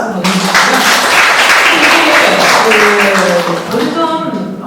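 Applause from an audience at a school talk concert, a dense, steady patter of clapping lasting several seconds, with voices speaking over it.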